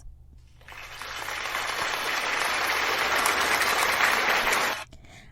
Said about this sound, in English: let's give a round of applause to all